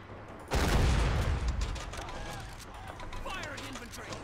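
Infantry gunfire in the Men of War: Assault Squad 2 strategy game during the Operation Torch mission, a dense, sustained rattle of rifle and machine-gun fire with overlapping voices.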